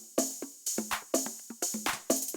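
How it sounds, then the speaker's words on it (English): Conga drum loop for an indie dance track, a steady run of short, bright hand-drum hits repeating in a tight groove, fairly quiet and alone with no voices. "Then you can't forget about congas that sound like this."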